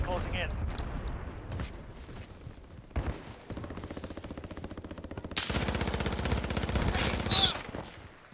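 Bursts of rapid automatic gunfire in Call of Duty Warzone, loud and sustained, with dense firing in the latter half, under players talking.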